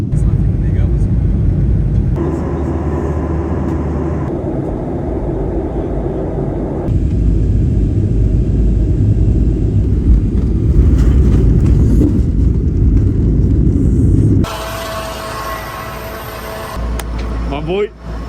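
An airliner's engines roar during takeoff acceleration, heard from inside the cabin as a loud, steady rumble that builds and shifts in stages before quieting toward the end.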